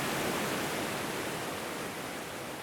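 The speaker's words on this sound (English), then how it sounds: "beautiful waterfall." A waterfall on a coffee farm in Costa Rica gives off a steady, dense rush of falling water, loud and unbroken, with no voices over it.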